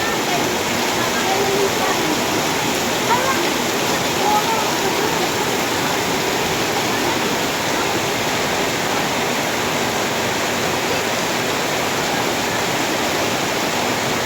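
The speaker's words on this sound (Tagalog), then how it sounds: "Grabe ang ulan guys oh." Heavy rain pours down steadily, a dense, continuous roar of water that stays loud and unchanging from start to finish.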